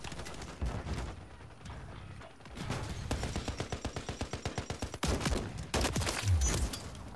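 The Holger gun fires in Call of Duty: Modern Warfare 3, with loud bursts of automatic shots that settle into a fast, even stream of rounds before more firing follows.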